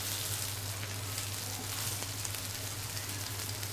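Mutton pieces frying slowly in oil on low heat, a soft continuous crackle and hiss at an even level throughout, with no talking.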